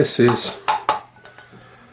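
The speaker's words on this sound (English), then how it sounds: "I'm going to tip it into the zeroed out scales" Coffee grounds retained in a grinder pot being tipped onto scales, a few light clinks and taps of the pot against the scale, close and brief, with a short rustle at the start.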